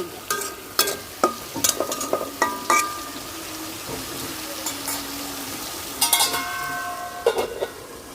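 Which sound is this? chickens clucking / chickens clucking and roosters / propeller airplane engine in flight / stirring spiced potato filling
stirring spiced potato filling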